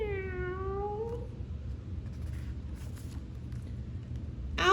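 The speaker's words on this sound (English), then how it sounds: "Meow." A single drawn-out cat meow falls slightly in pitch at the start, then quiet low background follows, ending with a short sharp sound.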